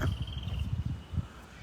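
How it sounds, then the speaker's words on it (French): Outdoor birdsong and insect chirping come through faintly, with soft thin calls over a low background rumble. "Écoutez les chants des oiseaux."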